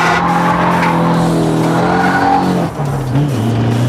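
Car drifting around a big round corner after a clutch kick, its tires squealing in a loud sustained screech over the engine's droning revs, dipping briefly then resuming.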